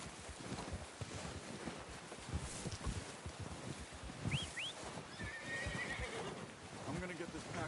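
A horse neighs in Red Dead Redemption 2, a whinny with rising and falling pitch heard briefly over rustling, wind and shuffling movement, with low talk mixed in.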